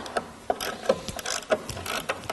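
A 13mm socket ratchet backs bolts out of a Jeep third brake light mount on a rear tire carrier, giving a quick run of light metallic clicks, close and steady, with no talk.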